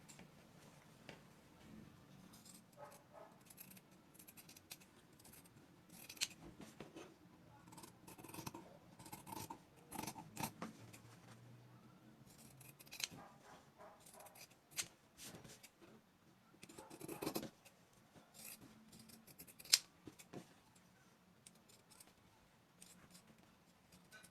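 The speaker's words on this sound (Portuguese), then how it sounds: "a gente vai cortar em cima do risco" Scissors snip through fabric along a traced pattern line for a small rabbit doll's outfit, giving quiet, irregular crunching cuts with soft rustles and pauses in between.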